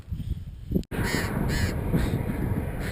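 Harsh, raspy parrot calls repeat in quick succession outdoors, fairly close, over a low rumbling background, near Puerto Madryn, Argentina.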